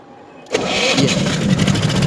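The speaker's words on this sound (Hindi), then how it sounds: "ये हमारा इंजन स्टार्ट बिल्कुल ऑटो में।" A Mahindra diesel generator engine starts automatically from a panel controller: after a half-second of near silence it catches abruptly and settles into a loud, steady rumbling idle.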